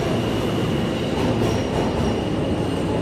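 On an underground platform, a subway train rolls in with a loud, steady roar, rumbling wheels and faint squeals from the rails. No one talks over it.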